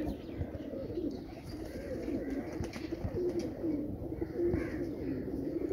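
Pigeons cooing outdoors in sunny weather, a steady low murmur of overlapping coos that runs continuously throughout, fairly close and moderately loud, with no talking.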